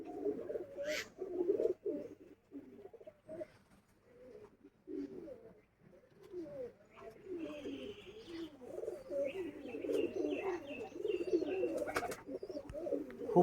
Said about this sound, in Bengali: ভালো কোয়ালিটি পায়রা এটা